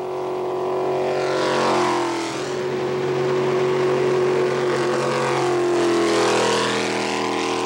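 Jet boats race at a world championship in Alberta, Canada, in 1999, their engines roaring loud and continuous as one sweeps past with a rising then falling pitch and a second one follows close behind.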